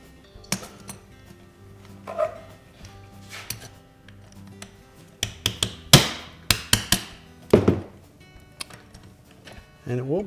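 A hammer punches a ground-off rivet out of a refrigerator door roller on an Amana refrigerator, giving a run of sharp metallic strikes, about eight close, loud blows in the second half after quieter tapping.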